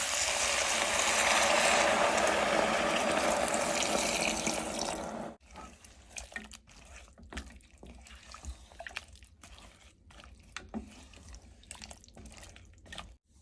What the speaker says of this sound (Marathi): आणि आपण आता पाणी घालूया